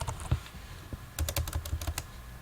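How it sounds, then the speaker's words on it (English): Fingers type on a computer keyboard, a few scattered key taps followed by a quick, close run of crisp clicks, with no talking. "just type in your 2 email addresses right here"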